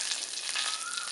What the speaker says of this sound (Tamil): கடுகு இப்போ பொரிய ஆரம்பிச்சிருச்சு